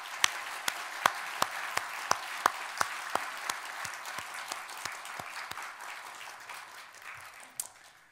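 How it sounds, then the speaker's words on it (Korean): A church congregation applauds during a Korean worship service, steady soft clapping filling the room with a few sharper, louder claps standing out in a loose rhythm, tapering slightly near the end. "하나님께 영광의 박수를 드리겠습니다."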